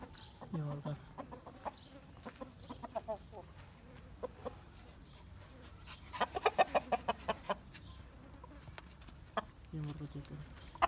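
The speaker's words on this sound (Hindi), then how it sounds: "ये मुर्गा चेक करें।" A rooster clucks in a series of short, bursting calls, with a rapid run of loud clucks in the middle, while people talk nearby.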